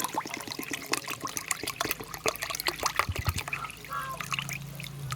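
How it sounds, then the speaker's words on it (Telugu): A litre of water is poured into a homemade jasmine fertilizer mix of rice flour, peanut powder and sugarcane juice, giving a continuous gurgling, splashing pour that runs close and moderately loud for several seconds. "ఈ ఒక లీటర్ వాటర్ని ఇలా పోసేసి అంతా కలిసేలాగా బాగా కలిపేసుకోవాలి"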